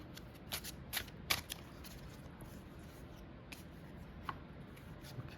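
Tarot cards shuffled and drawn on a table, a few quiet crisp riffles and flicks in brief bursts over soft background, close and faint.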